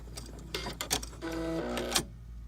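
A Brother sewing machine's automatic thread cutter whirs and clicks through a short mechanical cycle, a few sharp ticks followed by a brief motorized buzz, close and clear with no talking.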